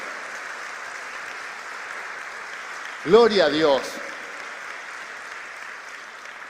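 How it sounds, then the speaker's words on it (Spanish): A church congregation applauds during a Spanish-language sermon, a steady wash of clapping that runs throughout while a voice briefly speaks over it midway. "Le damos un fuerte aplauso a su palabra."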